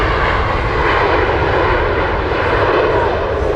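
Lufthansa airliner at Heathrow Airport, a loud, steady roar of jet engines filling the whole span, close and continuous with no break.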